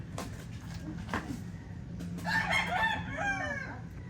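Chickens cluck inside a coop while a rooster crows clearly partway through, close and moderately loud over low barnyard background noise.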